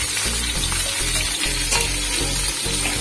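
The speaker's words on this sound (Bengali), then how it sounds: "আর আলুগুলোকে ভেজে তুলে নেব।" Potatoes and cauliflower fry in hot oil seasoned with salt and turmeric, giving a steady, close crackling sizzle that runs through the whole stretch over a low tonal background.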